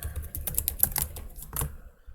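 Someone types on a computer keyboard, a quick run of close, uneven clicks and key taps while writing C++ code. The typing slows and stops near the end, with no speech.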